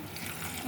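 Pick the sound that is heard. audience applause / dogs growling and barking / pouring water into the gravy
pouring water into the gravy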